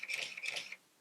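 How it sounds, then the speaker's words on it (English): A Nikon F301 film camera's motorized advance winds film on for about three-quarters of a second, a close, steady mechanical whir with ratcheting gear texture that stops abruptly. "That's the film being advanced on for the first time"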